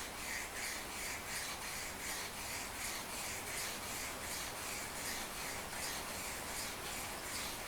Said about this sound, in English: This is just normal deburring actually.